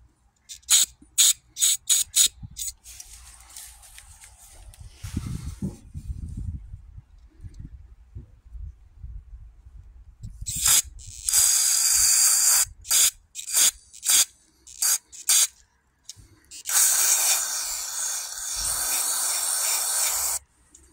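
Short bursts of aerosol cleaner sprayed into the small holes of an Edelbrock carburetor: many quick hissing squirts early on, then a few longer sustained sprays later, close up with no talk.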